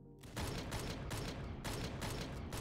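Guns fire in a retro DOOM-style shooter, a rapid, continuous burst of loud automatic gunfire with heavy recoil that runs almost the whole clip, briefly dropping near the middle before resuming.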